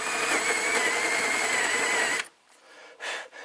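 A drill with a Forstner bit bores a recess for a T-nut into wood, a loud steady whirring grind that cuts off abruptly, followed by quieter brief handling noises.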